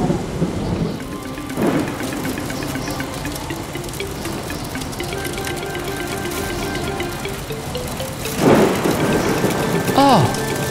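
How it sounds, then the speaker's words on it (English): Cartoon thunderstorm: steady rain hisses throughout while thunder rumbles and cracks, with a louder close crash near the end. "It looks like there's going to be a thunderstorm."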